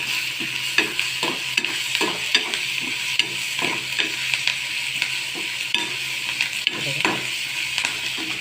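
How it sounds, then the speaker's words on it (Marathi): Onions with a pinch of salt fry in a pan for a tomato chutney, giving a steady sizzle under repeated rhythmic scrapes and taps of a spoon against the pan, close and continuous. "आता छानपैकी कांदा आपण लाल करून घ्यायचा आहे"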